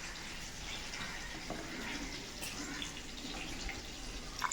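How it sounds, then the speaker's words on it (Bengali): Water trickling and splashing steadily into a jar of whole cumin, whole coriander, green and red chillies and ginger, poured in for a spice paste; a continuous soft close pour with no talk. "তো দেখো একটু জল দিয়ে দিলাম"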